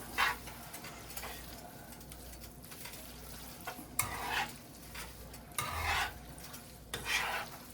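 Fettuccine being tossed with a handful of cheese in a pan for a traditional Alfredo without cream, giving repeated soft scraping and stirring strokes with light clinks of a utensil against the pan, fairly quiet and steady.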